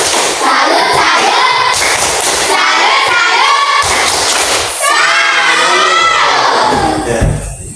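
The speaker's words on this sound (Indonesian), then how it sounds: "Jadi mari kita memberikan tepuk salut untuk kelompok 3 dan kelompok 2." Schoolchildren in a classroom perform the tepuk salut clapping chant, loud rhythmic hand claps mixed with shouted chanting voices in bursts, close and energetic throughout.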